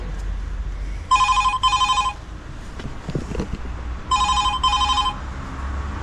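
A door intercom bell rings in two paired electronic bursts, clear and fairly close, with a quiet gap between them holding some faint shuffling.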